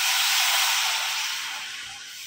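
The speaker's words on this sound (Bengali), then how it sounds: "এটাকে আমি 1/2 কাপ জল দিয়ে দিলাম।" Water splashed into a hot pan while making mixed fruit chutney hisses loudly and steadily, a broad steamy sizzle that slowly fades over about two seconds with no voices.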